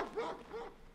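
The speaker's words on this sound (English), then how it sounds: "Whoa, that dog sounded fucking real, bro." A realistic dog barks inside the horror game Don't Scream, two short barks with a whimpering, yelping edge, moderately close and alone, with no one talking over them.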